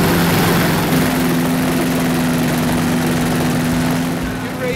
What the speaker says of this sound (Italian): Pronti per partire con l'elicottero in questo paesaggio fantastico.